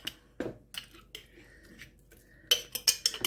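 A metal spoon knocks against dishes during home cooking: soft handling noises, then a quick run of bright, close clinks near the end.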